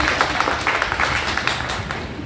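An audience claps for a teacher at an education conference, a dense, steady patter of many hands that carries through without a break.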